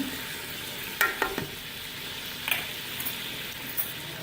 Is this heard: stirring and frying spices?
yes